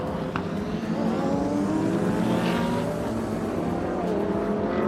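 GT race cars at full throttle during a GT Asia race at Sepang International Circuit in Malaysia, loud engines howling and shifting pitch as several cars pass close, a continuous roar with no commentary.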